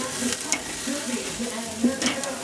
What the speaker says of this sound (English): Keep flipping the steak.